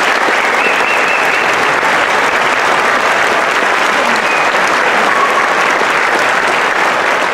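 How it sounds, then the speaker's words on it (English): Audience applause fills a gala concert hall, a dense, steady clapping from a large crowd that holds evenly loud throughout with no speech over it. "Let's hear it for Rod and Dennison, for all of the great volunteers and everyone who works so hard to make Westwoods work every single day"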